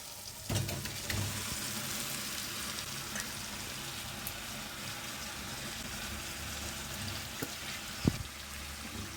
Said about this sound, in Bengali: চিকেন আর আলুতে যেহেতু কাঁচা মশলা দেওয়া ছিল তার জন্য এটা আর একবার ফ্রাই করে নিতে হবে